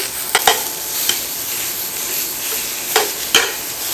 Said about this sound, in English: get the meat broken up, chopped up